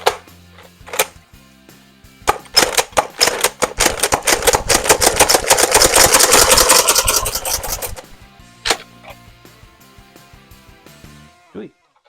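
A Nerf N-Strike Alpha Trooper blaster slam-fires waffle head darts in a rapid, dense burst of clattering mechanical shots lasting several seconds. A few isolated clicks come before and after the burst, and the sound is close and fairly loud.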